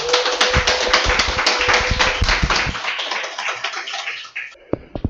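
An audience at a multicultural-society education program claps loudly to welcome a professor to the stage, dense steady applause that thins out and fades near the end, leaving a few scattered claps.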